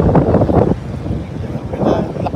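Strong gusts roar and buffet the microphone continuously, loud and rumbling throughout, with no voices.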